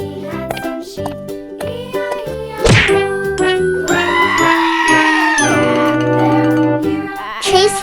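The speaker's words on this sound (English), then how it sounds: "on his farm he had some sheep" Sheep bleats sound within a sung children's nursery rhyme about a farm, with bright musical accompaniment, a sharp whack and chiming dings, all loud and close.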